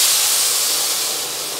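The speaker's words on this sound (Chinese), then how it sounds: "就淋啲滾水落去，咁啊直接炆。" Boiling water is poured onto oxtail seared in a pan, giving a loud, close, steady steam hiss that fades slightly over its short length.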